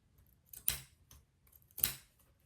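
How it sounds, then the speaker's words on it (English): Two crisp snips of rag scissors cutting rag quilt fabric blocks for a tote bag, close and isolated, spaced about a second apart over near silence. "Making a rag quilt with rag scissors."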